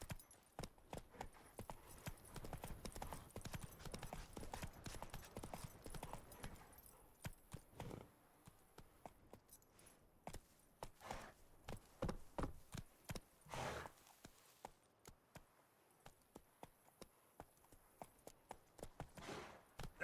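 Horse hooves clip-clop in The Witcher 3, a quick steady gallop through the first seven seconds that then slows to scattered, spaced hoof beats near the listener, with faint game ambience between.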